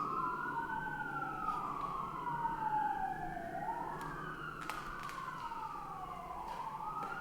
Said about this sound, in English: I couldn't hear him with the sirens.